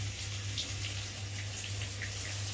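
Tap water runs steadily into a bowl of biryani rice set to soak, a soft continuous gush with light splashes, quiet and alone.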